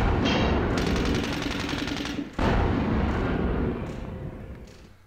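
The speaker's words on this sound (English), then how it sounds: "then they bring up their infantry and start shooting at us" Heavy, continuous infantry gunfire in a WWII tank battle game set at Rossienie, dense crackling bursts that cut out briefly near the middle, then resume and taper off.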